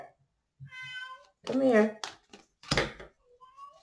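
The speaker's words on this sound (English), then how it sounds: "Please don't mind my cat" A house cat meows several times up close, long drawn-out plaintive cries mixed with someone speaking between them in a quiet indoor room.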